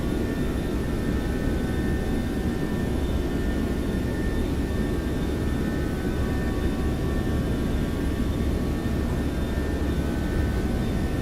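Steady, loud roar of Boeing 737-700 jet engines at takeoff thrust in the X-Plane 12 flight simulator, a constant broad rumble with a faint high whine, unbroken and without talk.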